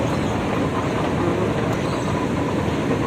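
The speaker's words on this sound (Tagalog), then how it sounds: "First time ko magsakay ng MRT." Singapore MRT train ride with a steady, loud rumble of the carriage running along the rails, a continuous close roar and rattle with no talking.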